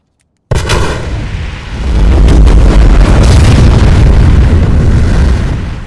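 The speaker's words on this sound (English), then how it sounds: "When something explodes, you're able to literally feel it and feel like you're a part of it." Film explosions in an IMAX theater burst in suddenly from silence, then swell into a deep, rumbling, sustained roar with crackling debris, very loud and without talk.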